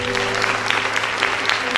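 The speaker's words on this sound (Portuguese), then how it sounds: "Então dá um aplauso aí." A church congregation at a worship service claps in a steady, dense round of applause, close and loud throughout the short stretch.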